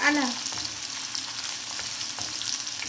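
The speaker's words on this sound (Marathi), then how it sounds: "कांदा हा थोडा परतून घ्यायचा, थोडा त्याला कलर" Onion sautéing in a pan, a steady close sizzle with stirring scrapes, opening with a brief louder hiss and then settling into an even fry with no talk.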